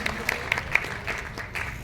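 Scattered applause from an audience at a Hindi poetry gathering as a poet from Kanpur is introduced, a few distinct sharp claps standing out over a thinner crowd patter, with a voice talking over it.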